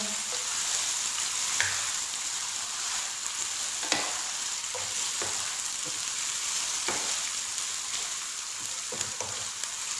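Chicken for a restaurant-style biryani browns in a hot pan with a constant soft sizzle and crackle. Occasional spoon taps and stirring scrapes sound at a moderate, even level, with no talking.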